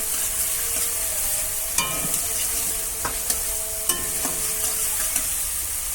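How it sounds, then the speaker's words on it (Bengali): Onions salted and frying in a pan, being stirred with a utensil; a steady sizzle runs throughout, with sharp scraping clicks and clatters of the spoon against the pan at irregular intervals, close and moderately loud. "ব্রাউন ব্রাউন করে একটু ভেজে নিতে হবে লালচে লালচে"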